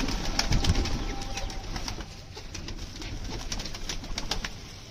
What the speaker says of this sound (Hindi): दोस्तों अपने कबूतरों को दाना डाल दिया